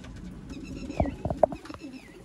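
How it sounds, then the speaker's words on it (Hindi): Sialkoti pigeons coo softly at close range, a few low, rounded coos bunched in the middle of a quiet stretch, with faint chirpy background sounds. "आपके सामने है कबूतर"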